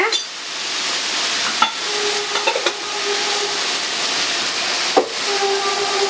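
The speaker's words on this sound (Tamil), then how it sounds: "நல்லா எண்ணெயிலே இதை கொஞ்சம் அப்படியே திரட்டி விடுங்க" Tomatoes and chili powder sizzling in hot oil while being stirred, a steady close hiss of frying broken by a few sharp scrapes and knocks of the spoon against the pan.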